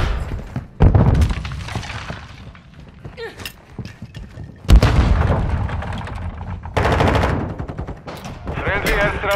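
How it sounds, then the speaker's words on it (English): A charge detonates on the target in Modern Warfare 2: a sudden loud blast bursts through dense, rapid gunfire, and voices call out beneath the continuous shooting. "set the charge on the target and detonate it"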